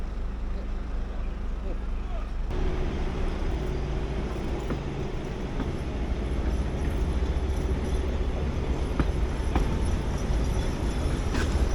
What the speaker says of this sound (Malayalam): എൻജിൻ്റെ സൗണ്ട് ആയിട്ട് ഒരുമാതിരി നമ്മൾ ഡെമോൻ്റെ ഒക്കെ പോലെ ഉണ്ട്